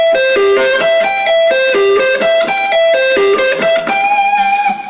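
Electric guitar plays a sweep-picked arpeggio, clear bright notes rolling up and down in a fast, even repeating pattern, loud and alone with a slight distorted edge.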